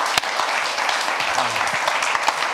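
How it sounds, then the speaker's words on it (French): Sustained applause from an audience at a 70th-anniversary product launch event for Cabasse speakers, steady dense clapping with a brief voice underneath. "Vraiment, on peut l'applaudir"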